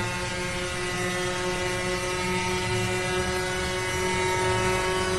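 A loud, steady two-stroke Yamaha RXT jet ski engine roars continuously, high-pitched and buzzing with a strong whine and constant wind noise.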